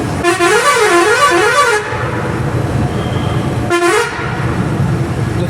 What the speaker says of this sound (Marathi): जरा हॉर्न वाजव.